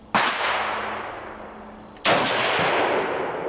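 Two sharp, loud rifle shots from a Lee-Enfield No.1 Mk III SMLE .303, Ishapore-made, fired about two seconds apart outdoors, each with a long echoing decay.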